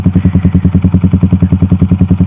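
A Yamaha R15 motorcycle fitted with a custom Termignoni racing exhaust idles close by, giving a loud, deep, evenly pulsing burble with a rapid, steady rhythm.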